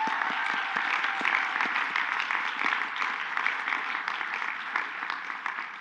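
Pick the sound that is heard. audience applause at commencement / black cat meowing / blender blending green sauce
audience applause at commencement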